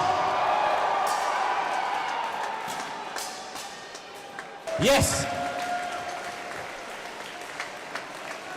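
A crowd at a live rookie competition event applauds and cheers, a broad wash of clapping that swells briefly midway with a sharp bang, while a host speaks over it before it gradually thins.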